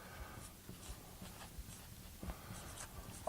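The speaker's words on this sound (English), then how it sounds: "actually I should write on the top here" A pen writing on paper, a line-up sheet marked with little dots: soft scratchy strokes in short bursts with brief pauses, close but quiet and steady throughout.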